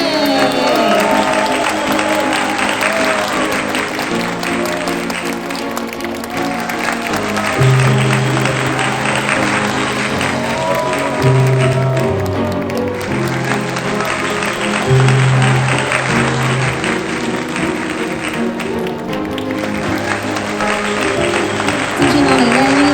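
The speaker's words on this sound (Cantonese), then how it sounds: "歡迎大家嘅掌聲" Guests at a Hong Kong wedding party in a banquet hall applaud the bride and groom as they walk out, with steady sustained clapping over loud music and a public address voice throughout.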